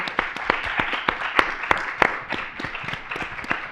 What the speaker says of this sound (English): So everyone, give each other a round of applause